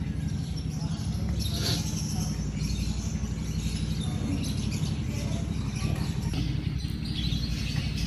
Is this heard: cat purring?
no